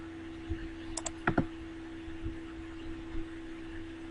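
A few sharp, quiet clicks in quick succession, like a computer mouse button, over a steady low electrical hum.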